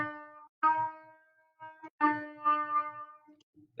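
A beginner trumpet plays two short measures of a simple practice piece: a few sustained, fairly soft notes separated by brief pauses, heard alone and up close.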